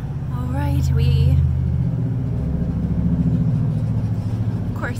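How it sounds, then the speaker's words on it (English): A heavy truck rumbles past nearby with a loud, steady low engine drone that swells and lingers, a brief voice heard at the start. "every time I start filming, some loud truck goes by."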